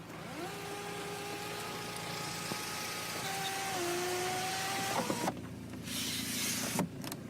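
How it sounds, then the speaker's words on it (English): Electric sunroof motor on a Volkswagen GTI whirring steadily as the roof opens or closes, a close, sustained mechanical hum with a pitch shift near the end of travel, followed by cabin noise. "Sunroof works fine, no leaks."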